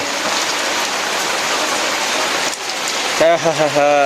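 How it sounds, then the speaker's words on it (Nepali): Steady rain falls on a village surface, a dense continuous patter throughout, with a person's voice starting near the end. "फेरि चाहिँ आज पानी परिरहेछ"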